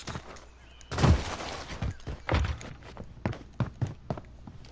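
Video-game gunfire cracks through a shootout, with several loud sharp shots and bursts scattered irregularly among softer thuds and clatter, and no talk.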